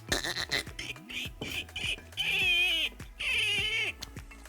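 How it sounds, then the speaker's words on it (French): Series of high, sliding dolphin signature whistles and squeaky chirps in short bursts, rising and falling in pitch, with a couple of longer wavering calls close by. "Chaque dauphin a son cri précis, un sifflement que lui seul a pour se faire reconnaître."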